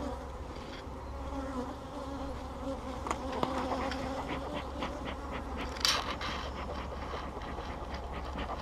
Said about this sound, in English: I am in a storm of mad bees